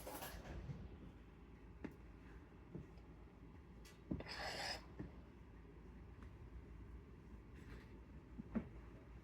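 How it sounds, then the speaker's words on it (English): Flour is pushed through a kitchen sieve for cut-out sugar cookies, giving soft, faint rubbing and rasping with a slightly louder shushing burst midway and a few light taps, with no talking. "I always like to put it through a sieve in case there's any lumps in the flour"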